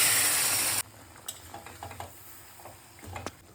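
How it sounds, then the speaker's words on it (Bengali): Marinated chicken hits melted butter in a wok with a loud, hissing sizzle. It quickly settles into softer frying with light scraping and clinking from stirring. "এবার কড়াইতে দিয়ে দিলাম বাটারগুলো ভালোভাবে মেল্ট হয়ে যাওয়ার পরে তার মধ্যে দিয়ে দেবো ম্যারিনেট করা চিকেনগুলো।"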